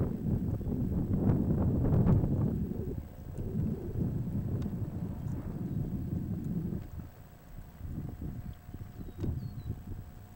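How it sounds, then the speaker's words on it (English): Gusty wind buffets the microphone with low rumbling bursts that rise and fall, strongest at the start, with no one talking. "Windy."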